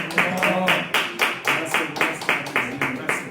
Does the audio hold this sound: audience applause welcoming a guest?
yes